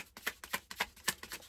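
A tarot deck is shuffled by hand in quick, rhythmic riffles, a run of soft papery snaps close by and fairly quiet.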